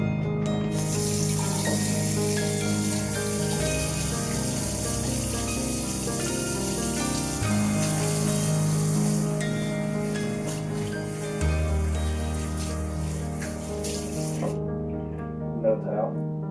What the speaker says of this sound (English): Before we get started, we're going to wash our hands.